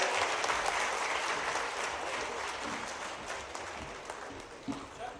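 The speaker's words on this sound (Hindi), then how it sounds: "एक बार जोरदार तालियां बजाएं" Audience applause at a Madhya Pradesh police promotion and decoration ceremony in Balaghat, a dense, steady wash of many hands clapping that holds for several seconds and slowly thins toward the end.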